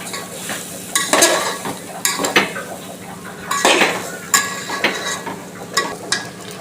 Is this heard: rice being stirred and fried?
yes